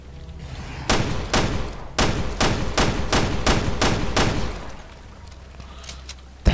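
Gunfire from a firearm in Resident Evil Revelations 2: about nine sharp, evenly spaced shots in rapid succession, loud and close, then a quieter stretch of game ambience with one final thump.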